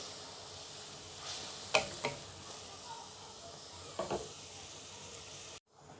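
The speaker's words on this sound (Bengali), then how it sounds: "পরিমাণ মতো লবণ হলুদের গুঁড়া ধনিয়ার গুঁড়া সামান্য একটু লাল মরিচের গুঁড়া দিয়ে ভালো করে চিংড়িটা কষাবো" Shrimp frying in a pan with salt, turmeric, coriander and red chilli powder, a soft steady sizzle with a few brief scraping stirs, fairly quiet, ending abruptly.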